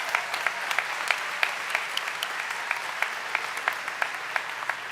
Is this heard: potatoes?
no